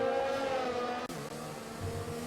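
Race car engines wail during a side-by-side overtake at Mexico in an F1 video game, layered high-pitched tones with a brief dip as one car pulls through, no voices.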